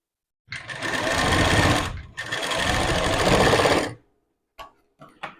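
A sewing machine stitches tucks on a blouse in two loud, rapid runs of about a second and a half each, separated by a brief pause, followed by a few short mechanical clicks.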